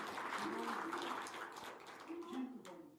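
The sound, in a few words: congregation applause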